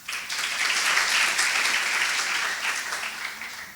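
Loud, dense applause from a crowd at a university event, continuous hand clapping that stays full and even throughout with no speech over it.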